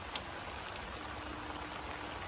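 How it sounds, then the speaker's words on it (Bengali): Heavy rain pours steadily by a river, a thick constant patter with occasional sharper drops striking a nearby surface. "এত বৃষ্টি পড়ছে থাকা যাচ্ছে না এখানে"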